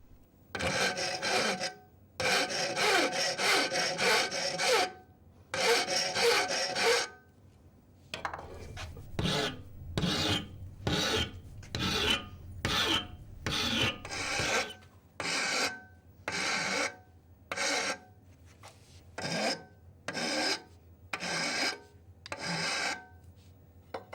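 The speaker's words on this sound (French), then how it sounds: "L'autre extrémité est aussi arrondie à la lime et à l'étau pour former un dôme" A steel punch bar clamped in a vise is hand filed, its end rounded into a dome: long rasping strokes in steady bursts, first a few extended passes, then a run of shorter regular strokes with brief pauses, close and alone.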